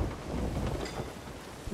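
Stormy sea in the pirate game Sea of Thieves: a steady roar of wind and rain with low rumbling, loud and continuous throughout with no voices.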